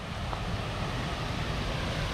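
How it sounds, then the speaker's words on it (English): A small waterfall on a Florida creek that flows into the Suwannee River gives off a steady, close, broadband rush of falling water, continuous and unbroken, with no voices heard. "you might hear we're actually coming up on a waterfall."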